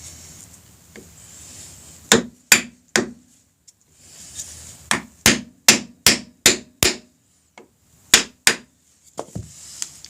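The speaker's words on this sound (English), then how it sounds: "I use a piece of a 2x4 and a dead blow hammer" A series of sharp, heavy thuds from a dead blow hammer striking a 2x4 wood block, in uneven bursts of two to five blows separated by short pauses.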